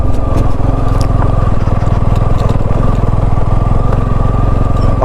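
A motorcycle engine drones steadily and loudly up close as it climbs mountain hairpin bends on the ride to Om Parvat near Lipulekh, with a constant throbbing rhythm and no voices.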